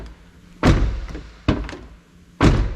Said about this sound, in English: the door handle obviously works.